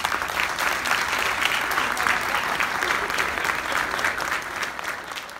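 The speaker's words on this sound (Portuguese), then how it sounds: "Gostaria de uma salva de palmas para este homem." A dense, steady round of applause from an audience honoring director Elias Junior fills the room, with loud, sustained clapping and a faint crowd murmur underneath.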